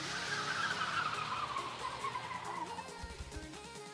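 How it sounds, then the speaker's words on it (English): Video game cars race with revving engines and long squealing, skidding tires, the engine pitch sweeping down and up at moderate loudness before a rough low rumble near the end. "Sounds like cars."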